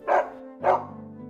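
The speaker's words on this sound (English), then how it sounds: "Their nurse was a big dog named Nana." A big dog, the nurse Nana from Peter Pan, gives two loud, close barks about half a second apart, each with a short ringing tail, with no other sound around them.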